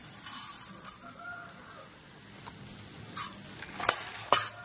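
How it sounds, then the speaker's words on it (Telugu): Coriander seeds frying in a pan with mustard seeds, a light sizzle under scattered spatula scrapes and a few sharp taps that cluster toward the end, close by, no talking. "ఫ్రై చేసుకోండి కొద్దిగా 2 స్పూన్స్ ధనియాలు"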